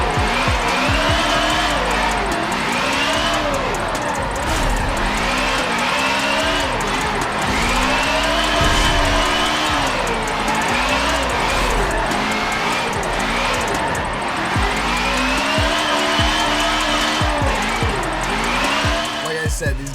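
A 1970 Camaro and a 1969 Fiat Dino drifting in tandem at the Dubai circuit, engines revving hard in repeated rising and falling waves with tires squealing, loud and close, with voices over the top.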